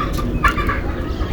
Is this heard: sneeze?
no